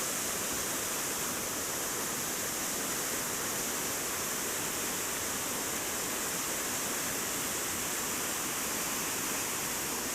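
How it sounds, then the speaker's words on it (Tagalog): Strong current of water rushing at a Philippine river swimming spot, a steady, loud broadband roar that fills the whole clip with no voices. "Malakas yung agos ng tubig."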